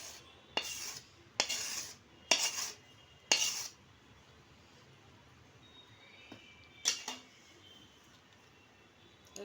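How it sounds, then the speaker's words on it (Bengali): Hot peanut brittle mixture poured from a pan onto the greased underside of a steel plate, heard as a handful of short, close metallic scrapes and clatters separated by quiet gaps, with no talking. "এখন আস্তে আস্তে করে আমি বাদামটা ঢেলে দিচ্ছি।"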